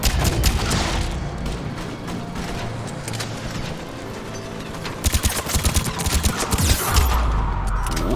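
Video game gunfire in Mass Effect 3, dense rapid bursts of shots crackling almost continuously, louder volleys near the end mixed with mechanical clatter and low booms.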